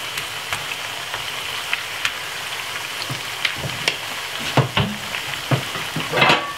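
Steady hiss of plantain frying in a pan, with scattered pops and crackles, busier and louder near the end; no voices.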